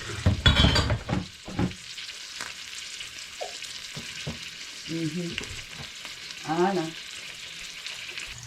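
Barbecue ham browning in a hot pan gives a soft, steady sizzle under occasional brief clinks, with a few quiet spoken words and a dog's whine partway through.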